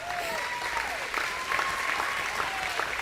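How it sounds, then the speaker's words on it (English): Steady audience applause at an agricultural fair ham auction, honoring the Henry County Fair grand champion ham, fills the whole short stretch with a dense, even patter of clapping, and a faint tonal voice rides over it. "Let's give Macy a round of applause."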